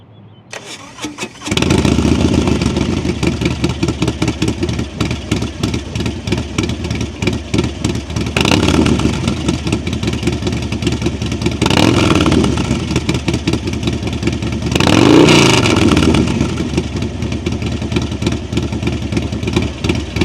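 A Harley-Davidson Road Glide ST fitted with a Sawicki Speed exhaust cranks and fires up, then settles into a loud, close, loping idle with a few throttle blips along the way.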